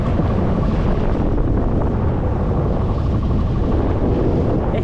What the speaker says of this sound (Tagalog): Medyo mahangin na dito.